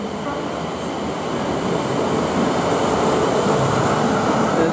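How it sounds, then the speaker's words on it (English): A South Western Railway train on the Alton line approaches Brookwood station, a broad rumbling roar that swells steadily louder as it nears, heard alone without talk. "There's a train coming."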